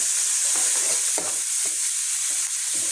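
Chopped onion sautés in a hot pan for a zucchini and meat casserole, a steady bright sizzle with a few soft scraping stirs of a spoon, close and continuous, with no voices.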